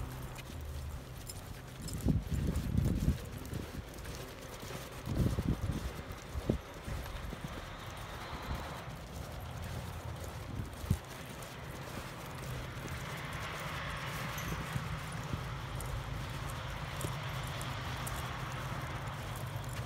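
A horse lopes in a rodeo arena, its hooves making rhythmic clip-clop beats that are loudest in the first few seconds and then settle into a softer, steady cadence.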